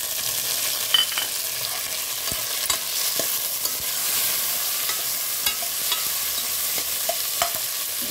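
Tomatoes tossed into onions frying in a pan, with a steady soft sizzle and scattered scraping stirs of a spoon running throughout, close and moderately loud, with no talking.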